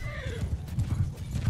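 A horse in the video game Mount & Blade II: Bannerlord gives a short whinny over rapid, heavy hoofbeats, loud and close, with no one speaking over it.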